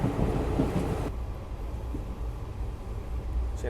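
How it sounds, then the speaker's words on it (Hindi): Chennai Palakkad Express with ICF coaches running, a steady loud low rumble of wheels and carriage from on board, continuous with no voices. "चेन्नई पालक्कड़ एक्सप्रेस।"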